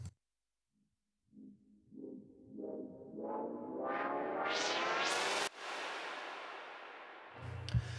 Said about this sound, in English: I've got this little operator kind of synth effects thing that comes in twice throughout